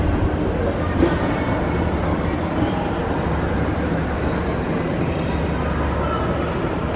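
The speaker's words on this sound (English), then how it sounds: "So this is the monorail deck, is what I would call it, at the Contemporary." Low continuous rumble from the Walt Disney World monorail at the Contemporary Resort, heard from the monorail deck on the fifth floor, a steady dense drone with hollow indoor echo.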